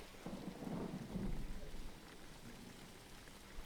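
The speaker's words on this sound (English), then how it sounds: "That was some quick rain." Rain and thunder in the driving game Jalopy: a low, rolling rumble of thunder swells early, then eases over a continuous soft hiss of rain, faint overall and without talk.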